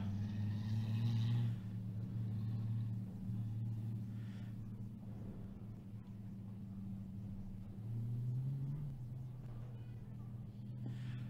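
Mini stock off-road race trucks idle through a pace lap on a short-course dirt track in Victorville, giving a steady low engine rumble that swells briefly at the start and again near the end.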